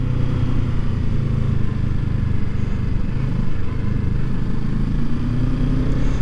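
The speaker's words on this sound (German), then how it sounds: "Jetzt war ich ein bisschen ruckig am Gas, das ist auch nicht gut in der Kurve." A motorcycle engine runs loud and close through a curve, droning steadily with slight uneven surges as the throttle is worked jerkily.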